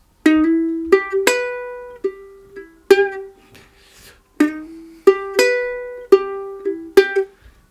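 A clean guitar plays a short phrase of plucked notes, some struck harder than others, giving an uneven accented rhythm with brief gaps.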